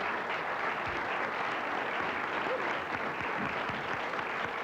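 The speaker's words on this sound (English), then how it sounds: "that gets applause and gasps and everything" Sustained applause from a TV studio audience, steady clapping filling the room with no voices standing out.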